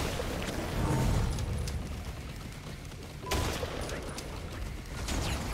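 Sniper rifle shots in the video game Risk of Rain 2, two sharp loud cracks a couple of seconds apart over a dense, continuous roar of game combat noise.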